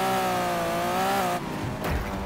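A car slams into a wall in the racing game Wreckfest; a loud engine roar with squealing tires cuts off into a sudden crunching impact, then a brief thud.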